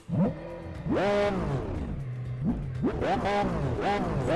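A Lamborghini Aventador engine in the video game Test Drive Unlimited 2 revs repeatedly, pitch sweeping up and down in several surges, loud and close throughout.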